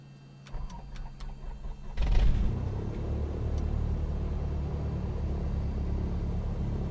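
Light aircraft propeller engine in a flight simulator cranking with a few clicks, then catching about two seconds in and settling into a steady, loud low rumbling idle.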